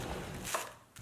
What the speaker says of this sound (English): Meanwhile, cut the garlic chives